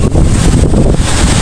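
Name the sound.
strong wind in a rainstorm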